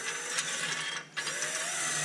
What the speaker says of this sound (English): I'm going to load a nut into my socket and hold the bolt on the back side.